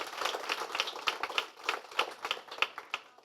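Several people clapping in a short, irregular burst of applause, sharp hand claps close by with no voices.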